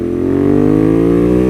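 Ducati Monster 821 Stealth V-twin engine revving close up, a loud, steady drone with pitch climbing smoothly over a second and a half, no voices.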